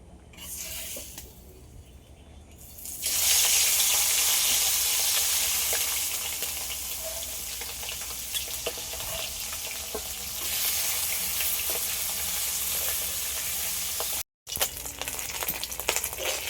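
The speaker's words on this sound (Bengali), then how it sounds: "এই সাদা তেলেই মাছটা আমি আজকে ভাজব তেলটা গরম হয়ে গেছে মাছ ভেজে নেব" Fish sizzles in hot white cooking oil in a pan, a loud, steady frying hiss that swells when the fish goes in and continues for a long stretch, broken by faint stirring noises and no talking.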